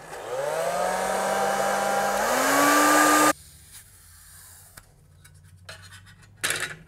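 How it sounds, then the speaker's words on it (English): A hairdryer blows steadily and loudly on a sticker on a Game Boy Pocket shell, its whine rising in pitch partway through before it cuts off abruptly, leaving faint handling clatter and a brief burst of noise. "So to do this, I'm just gonna use a hairdryer, nothing fancy"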